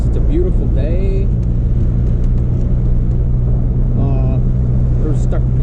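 A modified 10th-generation Honda Civic Si with a loud turbo drives along, its engine holding a steady, close droning hum with a few faint chirps and whooshes over the top.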